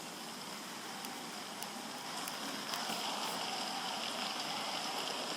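Heavy rain pours in Harvest Moon: Light of Hope on Android, a dense, steady hiss that swells slightly louder midway, with no voices.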